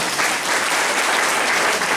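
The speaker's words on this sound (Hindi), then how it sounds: "जोरदार ताली वाली," Loud, dense applause from a large crowd at a direct-selling company event, a steady wash of clapping filling the hall throughout.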